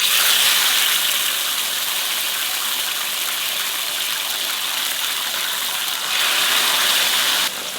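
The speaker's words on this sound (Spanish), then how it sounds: "Vamos a poner a dorar el bistec." Thin beef steak searing in hot oil for milanesa, a loud, steady hiss of frying that fills the space without pause, close to the pan, with a slight rise in intensity near the end.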